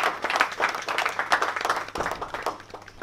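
An audience in a hall applauds steadily with dense, sustained clapping, loud and close, easing a little toward the end.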